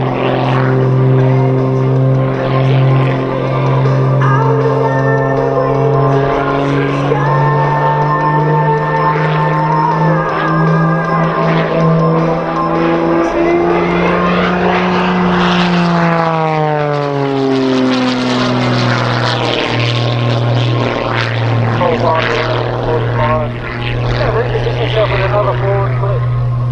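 Aerobatic propeller plane with wooden wings at an air show, a loud droning engine whose pitch rises and falls as it swoops past nearby, steady and continuous, with a voice talking over it.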